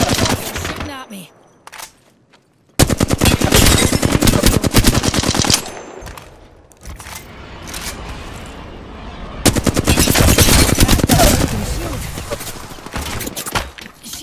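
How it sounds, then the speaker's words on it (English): Heavy automatic gunfire from Apex Legends battle-royale play, with Horizon in a fight, comes in long, loud, dense bursts with short pauses between them, alongside occasional game voice lines. "Shooting at me."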